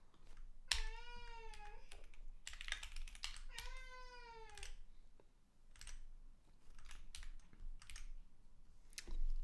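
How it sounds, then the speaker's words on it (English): A pet cat meows twice up close, two drawn-out wavering cries, while computer keyboard typing clicks on and off around them. "my cat is getting in my ear"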